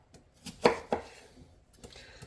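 Sharp knife chopping an onion on a cutting board during elk chili prep, a handful of crisp close cuts with short pauses between them, no talking.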